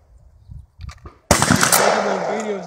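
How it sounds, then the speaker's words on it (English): Gunfire at a shooting lesson: one sharp, loud report bursts in after quiet, low voices, then rings on with a broad decaying rumble. "That's good shooting."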